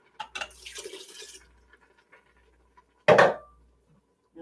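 Water poured into a pot of veggie chili with red beans, a soft trickling pour and splashes early on, then a brief louder splash near the end, in a quiet home kitchen.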